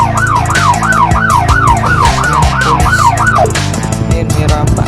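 Wailing police siren from the video game Dude Theft Wars, rising and falling in a steady repeated cycle over game music, loud and close, then breaking off near the end during a motorbike chase.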